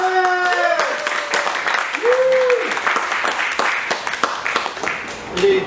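An audience at a live stage show applauds, with a steady wash of clapping alongside whoops and a cheer, close and lively.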